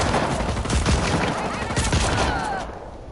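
Dense gunfire from a firefight in the video game Just Cause 4 crackles in rapid overlapping bursts, loud and close, then trails off toward the end.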